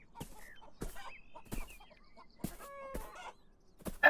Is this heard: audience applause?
no